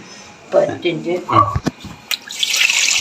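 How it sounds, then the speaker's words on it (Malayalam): Water pours into flour for kneading dough for a jackfruit seed dish, ending in a rushing splash after a stretch of voice-like sounds and a few sharp knocks. "കുറച്ച് വെള്ളം ഒഴിക്കുക നന്നായിട്ട് മിക്സ് ചെയ്തിട്ട്"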